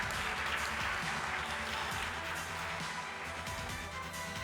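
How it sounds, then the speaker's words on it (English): Audience applause for the first runner-up team at the final round of the 2023 CFA Institute Research Challenge in Thailand, a steady dense clapping wash that holds evenly throughout at moderate level, with no talk over it. "Let's give the first runner-up team another round of applause for their incredible performance."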